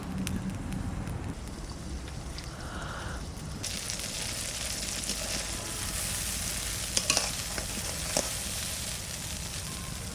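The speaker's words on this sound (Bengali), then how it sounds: "গলতে শুরু করে দিয়েছে। একটু নাড়া দিয়ে দিই।" Butter melting into homemade ghee in a pan, a continuous loud sizzle and bubbling crackle with scraping stirs and a few sharp clinks of a spoon, close up and without talk.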